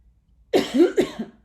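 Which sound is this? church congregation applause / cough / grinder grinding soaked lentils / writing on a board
cough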